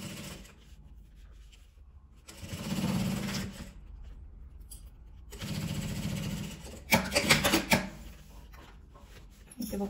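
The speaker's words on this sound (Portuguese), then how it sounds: "Eu vou passar uma outra costura na parte de cima também." A sewing machine stitches a seam on a fabric travel cosmetics bag, with short bursts of rapid mechanical whirring separated by pauses, fabric handling and light clicks between the runs.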